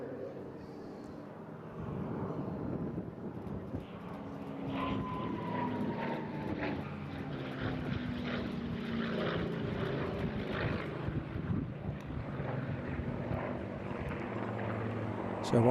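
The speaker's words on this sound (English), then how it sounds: "drop in momentarily into the cockpit to hear that break from the leader, Alistair" A propeller aircraft engine hums from inside the cockpit during an airshow formation break at Eastbourne, a steady droning roar with a slowly shifting tone, fairly quiet and sustained.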